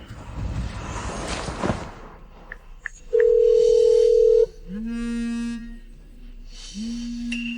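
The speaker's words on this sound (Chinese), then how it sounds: "阿宇，你快打电话叫他过来" A phone line during a call being placed: a steady single-pitch tone holds for about a second, followed by two lower repeated ringback-style tones, with brief clicks and a rushing noise at the start.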